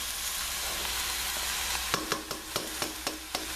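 Fish sizzles steadily in a hot pan while cooking with quinoa and black beans, a constant frying hiss broken by a run of light, regular scraping stirs near the end.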